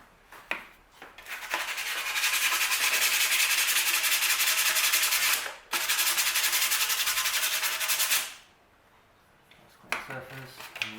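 Sandpaper roughing up the surface of a car thermostat housing, heard as a loud, close, continuous abrasive rasp in two long strokes separated by a brief pause, with soft handling clatter before and after.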